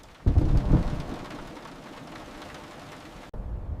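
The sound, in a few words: rain and thunder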